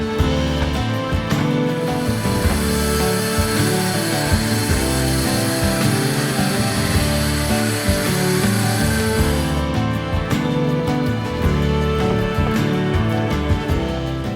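A power saw cuts a tapered line through wood framing for bunk windows in a van build, a loud, steady motor roar with grinding texture that runs unbroken for the whole stretch, with no voices.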